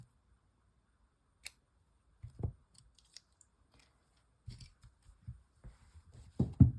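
Small scissors snip tatting lace thread with a few sharp, quiet clicks and short cuts spaced apart near the microphone, against a silent background.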